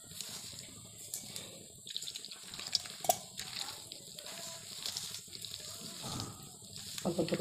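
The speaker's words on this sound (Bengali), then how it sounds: "অল্প অল্প করে জল দিয়ে আস্তে আস্তে মাখিয়ে নেব" Water is poured little by little into a rice flour and wheat flour dough for patishapta while it is kneaded: faint trickling and splashing with soft squelches, quiet and intermittent.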